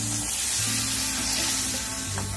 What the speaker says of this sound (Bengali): এবার এই মশলার গন্ধটা কাটানোর জন্য আমি অল্প জল দেবো, এক বাটি জল দিয়ে দিচ্ছি।